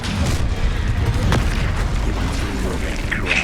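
A fiery blasting spell bursts in a Hogwarts Legacy battle, a deep booming explosion rumbling amid combat noise and a voice calling out.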